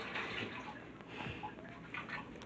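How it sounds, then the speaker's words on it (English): Tap water running steadily into a basin while hands are washed, a soft continuous splashing stream with faint bumps and drips, quiet and close. "Freddy, come wash your hands."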